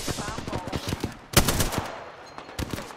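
Gunfire in the Apex Legends battle royale game: rapid bursts of automatic fire, then a loud cluster of sharp shots, with more bursts toward the end.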